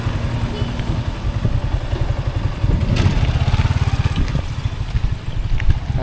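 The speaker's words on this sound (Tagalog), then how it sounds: "Papasok lang ang motor ni Bugay." A motorcycle engine rumbles close by with a steady, low, throbbing idle that holds for about six seconds, with a faint clatter.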